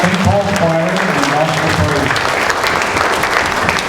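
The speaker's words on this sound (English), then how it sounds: "Let's give them another hand of applause." A room applauds St. Paul's Choir at a 100th birthday celebration, steady close clapping with voices talking at the start.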